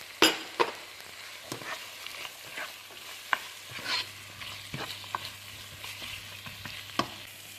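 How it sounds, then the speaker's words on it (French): Garlic, salt, pepper and red chilli stirred with carrots in a cooking pot for white bean stew; soft, quiet sizzle with sporadic spoon taps and scrapes against the pot, over a steady low hum and no voices. "فوالا غادي نحركهم"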